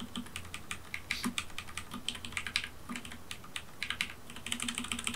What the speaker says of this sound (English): if you press on the Shift keys and then if you press the arrow keys at the same time